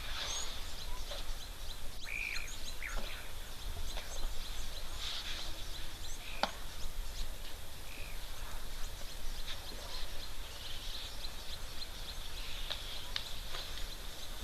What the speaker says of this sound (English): These Egyptian geese are very loud in the background.